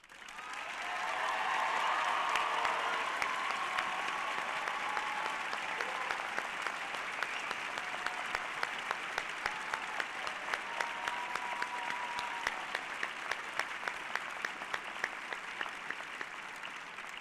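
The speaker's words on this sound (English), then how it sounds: "Ladies and gentlemen, please join me in applauding the group of exceptional students." Sustained applause from a large audience at a spring community college graduation ceremony, honoring the graduating students; dense, steady clapping fills the hall for the whole stretch, with a few sharper claps standing out toward the end.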